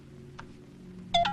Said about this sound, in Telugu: A phone తీయవయ్యా